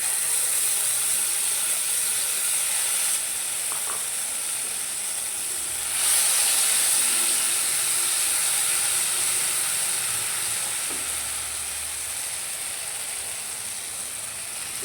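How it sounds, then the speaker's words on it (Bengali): A mustard and poppy seed paste frying in three spoons of hot oil in a kadai for an eggplant dish gives a continuous hiss that swells slightly partway through, then settles into a steady sizzle. "তেলটা গরম হয়ে গেছে। এবার সর্ষে পোস্তর পেস্টটা দিয়ে দেবো।"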